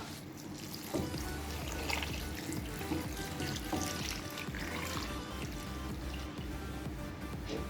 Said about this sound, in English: Yes, and then I'll add water.